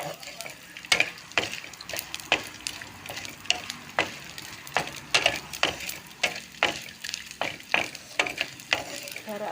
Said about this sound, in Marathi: हा डिंक असा परतत राहिला की तो फुलणार आहे.